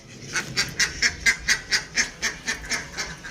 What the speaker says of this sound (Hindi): ये बत्तख ने भी शोर मचाया हुआ है